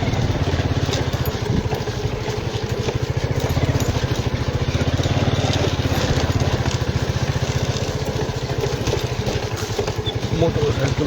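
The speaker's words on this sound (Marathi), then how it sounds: "मोटरसायकल चालणारी सर्कस" A motorcycle riding on a bad, rough road, its engine throbbing in a steady low pulse throughout, close and fairly loud, with jolting rattles over the bumps.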